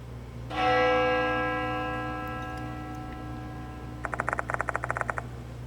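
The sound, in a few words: bell ringing in Spirit Hunter: Death Mark II video game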